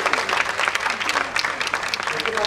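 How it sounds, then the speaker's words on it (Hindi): A theatre audience claps enthusiastically in dense, lively applause with crisp individual hand claps, filling a short stretch without speech. "उनके लिए भी जोरदार तालियां।"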